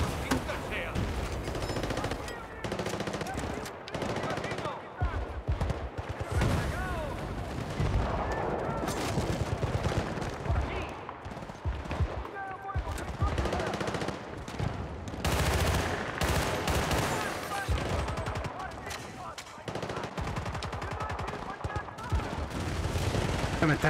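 Rapid gunfire crackles through a Battlefield Bad Company 2 firefight on Xbox 360, with dense, overlapping bursts and heavy blasts that keep going throughout, and a voice occasionally speaking over the battle.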